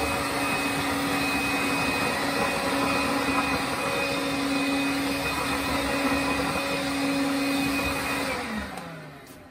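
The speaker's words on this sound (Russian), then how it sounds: "попробуем, уберет ли воду пылесос обычной щеткой" A Makita vacuum with a cyclone attachment sucks up water spilled on a floor, its motor droning loudly with a constant whine, then winding down near the end as it switches off.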